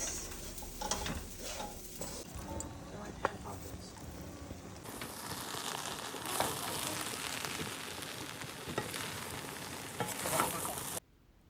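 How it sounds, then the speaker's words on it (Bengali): Fried rice frying and being stirred in a pan, with a steady broadband sizzle and scattered scraping clicks running throughout at moderate loudness, then cutting off abruptly at the end. "ওকে এই ফ্রাইড রাইস রান্না করবো এই যে ফ্রাইড রাইস"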